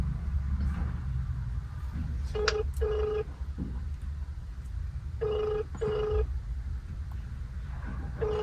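An outgoing phone call rings back with four evenly paired electronic ring tones, two pairs a few seconds apart, over a low steady background hum with no talking.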